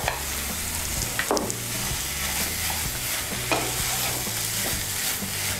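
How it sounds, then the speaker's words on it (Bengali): Mashed boiled potato being stirred into a banana flower mixture in a pan for Bengali mochar chop, steady frying hiss under repeated scraping stirs, close and continuous, no speech. "আলু সেদ্ধটাকে ভালো করে মোচার সঙ্গে মিশিয়ে নেব।"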